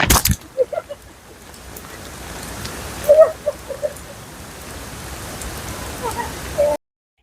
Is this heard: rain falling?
yes